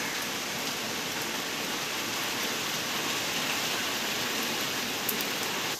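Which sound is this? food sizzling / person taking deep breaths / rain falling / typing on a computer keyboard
rain falling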